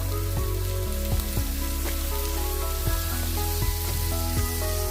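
Onions sautéing with salt in a pan for hotel-style chilli chicken give a steady sizzle, heard under a prominent musical backing with regular low beats and sustained tones.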